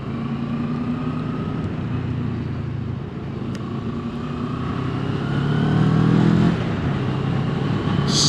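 Moto Morini Seiemmezzo 650 Scrambler motorcycle being ridden, a steady engine drone with wind noise that swells briefly as the rider shifts gear.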